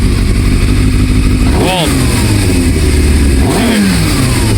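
A loud Yamaha Thundercat 600R sport motorcycle engine idles roughly, then revs sharply twice, each rev rising in pitch and dropping back, close to the listener.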